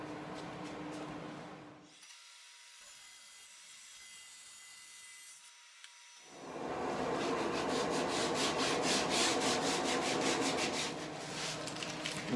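A saw fitted with a 60-tooth plywood blade cuts through taped plywood, first a brief whirring pass, then a quiet gap, then a loud, sustained rasping cut close by.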